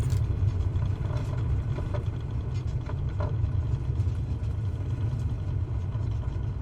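Cessna 172 piston engine idling in Microsoft Flight Simulator, a steady low rumbling drone with faint higher ticks, holding even and unbroken throughout.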